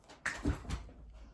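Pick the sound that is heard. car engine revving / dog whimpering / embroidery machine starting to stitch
dog whimpering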